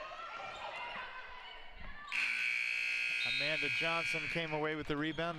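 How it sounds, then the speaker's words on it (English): A long, steady electronic buzzer sounds at the end of a period in a basketball game between Iowa and the Midwest Flyers, under an announcer's play-by-play with crowd noise behind. "There's the buzzer."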